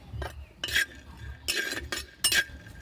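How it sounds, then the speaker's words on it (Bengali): Spoon stirring cashews and raisins dry-roasting in a pan, giving several separate bursts of scraping and light clinking with quiet gaps between them, close and fairly soft. "কাজুটাকে হালকা টেলে নেওয়ার পরে এখন কিশমিশ দিয়ে দিচ্ছি"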